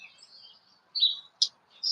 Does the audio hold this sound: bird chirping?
yes